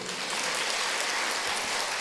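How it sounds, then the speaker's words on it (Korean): A church congregation at a New Year revival service in Ilsan breaks into applause, a dense, even wash of many hands clapping that fills the hall without voices. "박수"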